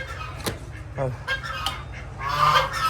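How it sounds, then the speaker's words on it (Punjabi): Ducks quack and honk noisily in bursts in the morning on a farm, several birds calling over one another close by, getting louder toward the end. "ਬੱਤਕਾਂ ਨੇ ਪਾਇਆ ਰੋਲਾ ਸਵੇਰ ਦੀਆਂ ਨੇ"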